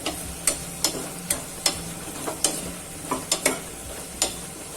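Potato curry sautés in hot oil in a pan, a soft sizzle under regular sharp taps of a spatula stirring against the pan, close and fairly loud.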